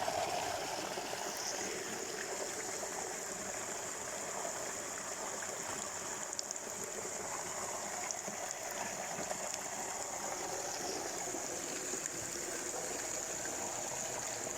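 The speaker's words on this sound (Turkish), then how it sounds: "su sesi huzur veriyor insana" Steady flowing stream water, a continuous gentle rush and trickle that stays even throughout with no voices.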